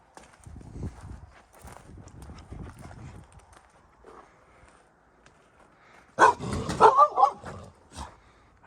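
A startled dog lets out a short burst of several loud, sharp barks close by, following quieter shuffling and knocking around classic muscle cars parked out in the desert.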